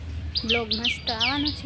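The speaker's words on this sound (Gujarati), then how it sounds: "ચકલી પણ બોલે છે મસ્ત મજાની" Sparrows chirp in quick, bright bursts outdoors, mixed with a person talking nearby.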